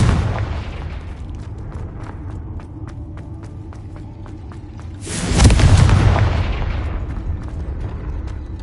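Confringo spell explosions in Hogwarts Legacy: faint ticking and low rumble give way to a sudden loud, broadband blast that rolls on in a long, heavy rumble and slowly fades.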